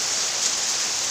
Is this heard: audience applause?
no